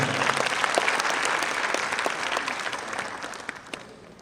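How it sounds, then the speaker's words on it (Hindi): A crowd at a patriotic Hindi poetry recital claps loudly in honour of the event's host, a dense, energetic burst of applause that thins out toward the end with a few scattered claps. "उनके सम्मान में एक बार जोरदार तालियां"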